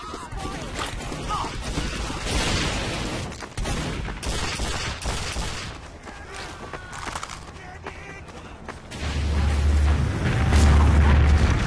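Frantic bursts of gunfire and booming blasts in a fortress battle video game rattle almost without pause, loud and dense, with a heavier rumbling stretch near the end and voices talking underneath.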